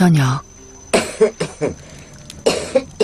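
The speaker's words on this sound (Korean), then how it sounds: "장터에서 무리를 했는지 할머니 기침이 잦아들지 않습니다." An elderly woman in Ethiopia coughs several times in short, rasping bursts, close by, after a brief spoken phrase at the start.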